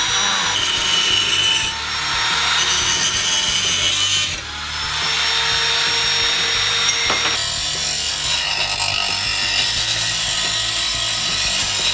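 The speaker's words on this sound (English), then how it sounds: "whenever you're using an angle grinder, bench grinder, anything that has flying metal headed your way" An angle grinder runs continuously against metal, rounding off its edges, a harsh high whine with brief pauses and changes in pitch as the edge is worked.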